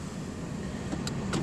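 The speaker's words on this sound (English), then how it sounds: "Electric windows in the front, only in the front." A 2012 Suzuki Celerio's front electric window, held down by its switch with no auto function, runs as a steady motor whine inside the cabin, broken by a couple of short clicks near the end.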